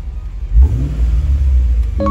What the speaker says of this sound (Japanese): いい音するな、V8。